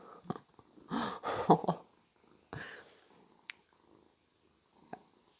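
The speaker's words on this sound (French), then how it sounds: "Oh, le chat." A cat purrs softly and close up in a quiet room, in a few breathy bursts with short pauses between them.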